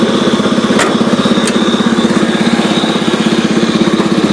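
A garden tractor engine runs steadily at a fast, even idle. The chugging is loud and close and rhythmic, with a couple of sharp clicks near the start and no voices.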